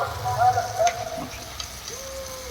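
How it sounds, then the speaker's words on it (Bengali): Spice paste of cumin and coriander powder with a pinch of sugar sizzles and fries in a pan for a vegetarian green banana kofta curry, a steady close crackle with occasional stirring scrapes. "এবার এই মশলাটাকে ভালো করে কষিয়ে নেব।"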